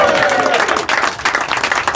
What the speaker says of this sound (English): I think we'll give them another cheer.